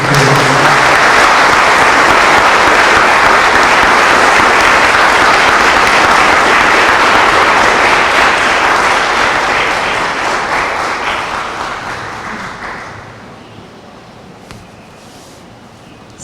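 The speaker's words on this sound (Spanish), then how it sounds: "Para Venezuela, un aplauso, un aplauso." Sustained, loud applause from a large audience at a ceremony in honor of Manuel Carlos Piar, a dense steady roar of clapping that gradually fades to near silence in the last few seconds.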